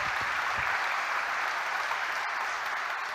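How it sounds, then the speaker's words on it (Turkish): An audience at an economics congress in İzmir claps steadily, a dense, even wash of applause that holds at a moderate level for the whole stretch with no one speaking. "Alkışlarınızla destek vermek isteyeceğinizi düşünüyorum."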